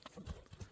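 A horse's hooves clip-clop in a quick run of three or four faint beats, heard in a very brief, quiet burst.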